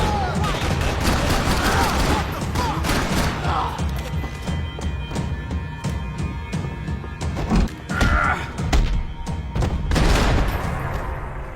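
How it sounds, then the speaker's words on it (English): Gunfire in the video game Max Payne 3: loud, dense volleys of rapid shots and crashes recurring across the stretch, with shouted voices and a horse-like whinny mixed in. "Shoot him!"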